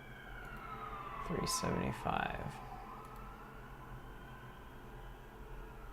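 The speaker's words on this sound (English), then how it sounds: "I should tell you that the siren is on my end." An emergency vehicle siren wails faintly from outside an open window, its gliding tone sweeping up and down in the background while a person speaks briefly over it.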